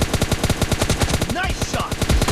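Rapid automatic gunfire in the shooter game PUBG, a fast steady stream of sharp shots, loud and close, with a brief in-game voice cutting in midway.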